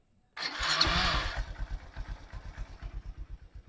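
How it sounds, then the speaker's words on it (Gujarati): A motorcycle is started with its electric self-start button. A brief whirring burst of cranking leads into a quiet, even, steadily pulsing idle, fairly faint and close by. "એકદમ સ્લો નોઈસ છે એન્જિનનો એકદમ તમે જોઈ શકો છો અત્યારે સ્ટાર્ટ છે કરી એટલે ચાલુ છે"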